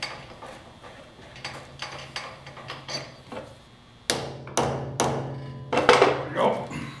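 A hammer bangs on a part of a truck in a shop, starting with lighter taps and building to heavier, ringing metallic blows at an irregular pace, close and loud.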